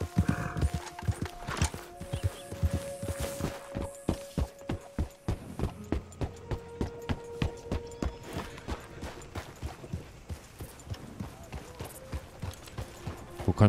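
Horse in the Red Dead Redemption 2 video game, steady clip-clop of hooves with whinnies over a background of game music tones, a voice briefly speaking over it.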